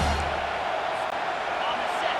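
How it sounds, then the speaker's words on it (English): A home crowd at a Clemson at South Carolina college football game roars steadily and loudly on a third down, a broad continuous wash of cheering with no breaks. "Here comes this home crowd as the defense tries to get off the field on 3rd down"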